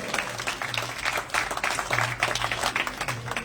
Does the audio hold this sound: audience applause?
yes